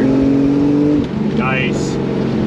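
A 1995 Jeep Wrangler 4.0 engine held at a steady idle hum, then climbing in pitch under full throttle, with a voice briefly speaking over it.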